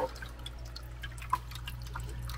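Water drips from a waterfall inside a knight anole's reptile enclosure: a few faint, sparse drips with one clearer drop, set against a steady low hum.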